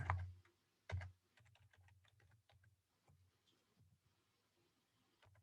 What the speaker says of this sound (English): I'm going to type in job hunting